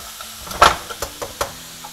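Vegetables in a pan give a soft sizzle, broken by several sharp stirring clatters and knocks of a utensil against the pan.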